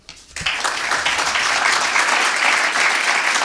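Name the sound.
audience applause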